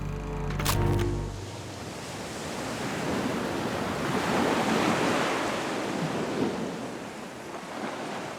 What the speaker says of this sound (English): As I was sitting by the ocean, watching waves